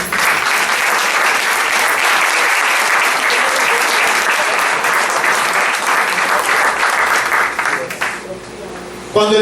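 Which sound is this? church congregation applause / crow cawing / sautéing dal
church congregation applause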